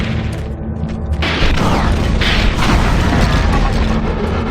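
Missile explosions in Doom 3 BFG Edition, loud booming blasts that swell in a dense roar after the first second and sustain through the rest of the moment, with mechanical rumble underneath.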